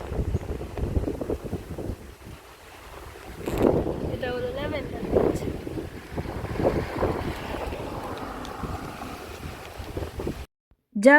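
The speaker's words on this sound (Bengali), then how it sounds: "ভয়ঙ্কর নদীর হাওয়া দিচ্ছে কথা বলবো কি কথা উড়ে বেরিয়ে যাচ্ছে" A strong wind off a river buffets a phone microphone in rough, rumbling gusts that swell and fade, while a person speaks underneath. The sound cuts out briefly near the end.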